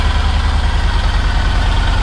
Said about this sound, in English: if I switch it on and I start the bike